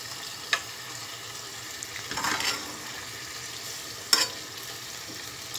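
Thinly sliced frozen meat sizzles quietly in a pan as water is poured in, giving a brief surge of hissing, with a couple of sharp clinks of a utensil against the pan.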